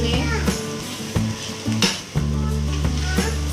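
Onion, chicken, capsicum and carrot sizzle and fry steadily in a pan for a chicken and potato cutlet filling, with loud, continuous frying noise and a few stirring scrapes and clinks against the pan.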